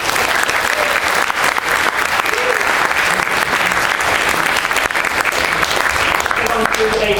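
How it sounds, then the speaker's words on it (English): Sustained, dense clapping from a debate audience applauding the speakers, a loud, even crowd of hands that carries on without pause from start to finish. "So a round of applause for the speakers."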